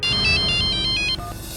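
A phone call's ringing tone, a loud, regular repeating electronic ring heard alone, cutting off near the end into a brief lower beep.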